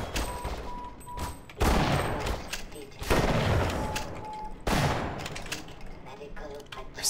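Enemy gunfire in the Half-Life video game: dense bursts of rapid shots, with three heavy volleys standing out over a continuous rattling barrage, loud and close throughout.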